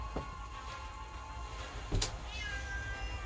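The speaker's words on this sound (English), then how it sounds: "One of my cats is meowing very loudly." A house cat meows loudly indoors, one short cry near the start and a stronger yowl about two seconds in, over a faint background hum.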